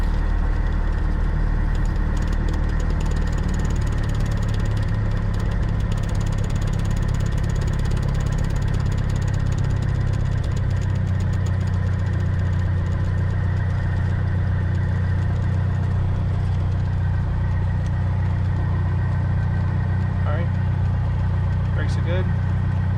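A Skyhawk light aircraft's engine drones steadily while taxiing toward the runway in Alaska, a continuous loud near hum that shifts in pitch partway through, with faint ticking and a voice mixed in.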